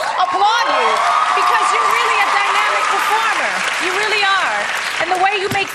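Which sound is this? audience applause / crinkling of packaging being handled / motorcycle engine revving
audience applause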